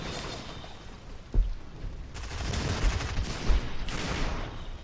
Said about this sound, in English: They shooting right now.